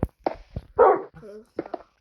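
A small dog lets out a few short sharp barks and a yelping whine, close and loud, spaced irregularly over a couple of seconds.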